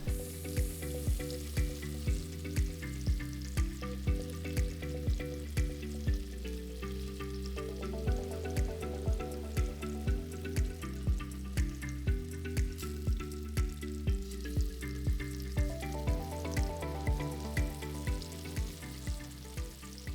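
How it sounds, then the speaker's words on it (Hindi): Paneer cubes fry in hot oil until golden brown, giving a steady sizzle under rhythmic background music with a regular beat throughout. "फिर हम उसे पनीर ऐड करके उसको हर साइड से हल्का सा गोल्डन ब्राउन फ्राई कर लेंगे।"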